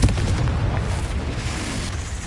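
A Confringo spell explosion in the video game Hogwarts Legacy, a loud, deep rumbling boom that fills the short moment up close, with no talk.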